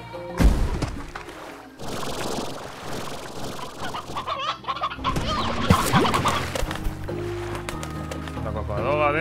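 Chickens cluck in the ranching game Slime Rancher, amid busy, layered game sounds and music, with scattered bursts that stay fairly steady and prominent throughout.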